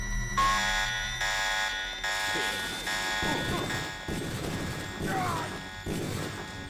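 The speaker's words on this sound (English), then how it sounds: "Kirain alarm udah mati." In the video game Deus Ex, an alarm blares in repeated buzzing pulses, loud and harsh, with speech and game noises breaking in over it.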